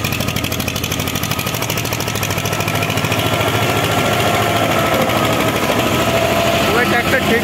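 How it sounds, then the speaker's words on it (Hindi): An Eicher 242 tractor engine labors steadily under a heavy load of wood on a climb, a loud, continuous diesel drone with a dense throbbing rhythm throughout. "वह ट्रैक्टर ठीक ठाक दम लगा रहा है एकदम बढ़िया।"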